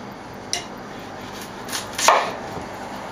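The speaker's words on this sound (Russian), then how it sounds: "теперь надо нашу картошку нарезать более-менее одинаково" A knife chops through firm purple potatoes on a board in a few distinct cuts, close and fairly quiet, with no talking.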